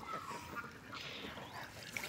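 Faint quacking from a flock of ducks feeding outdoors, low and distant beneath a noisy background.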